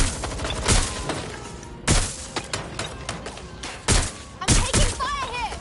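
Gunfire in Watch Dogs, a string of sharp loud shots arriving in separate bursts with impacts and shattering between them, while voices talk underneath.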